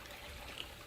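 Water runs into an above-ground Intex Ultra XTR rectangular pool with a faint, steady trickling hiss that lasts throughout.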